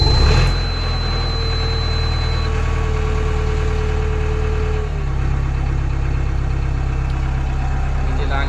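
A tractor's diesel engine catches and settles into a loud, steady idle that throbs continuously and close by, with a slight shift in tone about halfway through.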